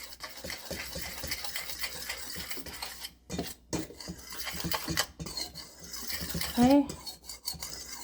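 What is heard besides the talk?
mixing baking soda, salt and cinnamon into flour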